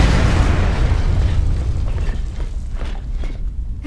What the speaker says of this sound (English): Explosions. Is there anything they can't do?